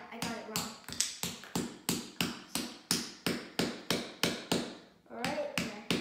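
Small pieces are hammered into a DIY time capsule at a Lowe's workshop, a steady series of about fifteen sharp, evenly spaced taps, close and crisp, with a brief pause near the end.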